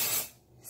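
Dry shampoo sprays onto hair in one close, loud hissing burst that tapers off, then a short fresh hiss begins at the end.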